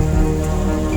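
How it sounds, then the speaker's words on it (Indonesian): Light drizzle falls steadily in misty weather outside a tent, a soft, even patter close by with no voices, lasting about a second. "meski gerimis masih turun dan kabut masih menyelimuti"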